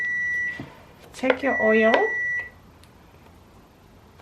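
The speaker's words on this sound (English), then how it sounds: "My microwave is already calling." A microwave oven beeps in a home kitchen, giving a sustained steady tone, then a brief cluster of beeps, then a second sustained tone. Someone speaks over part of it.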